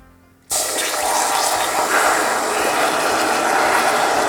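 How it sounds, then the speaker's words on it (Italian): After a brief quiet moment, water suddenly rushes into hot caramel for a mirror glaze, a loud, sustained hiss and gush that stays steady to the end with no talking. "Quindi verso l'acqua."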